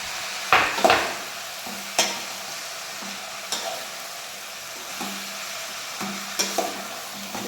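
Spring onions and vegetables cook in oil in a pan with a soft, steady sizzle, broken by several sharp spatula stirs and clinks against the pan.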